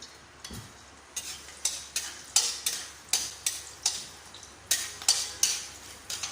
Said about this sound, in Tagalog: Nagigisa na po natin yung bawang.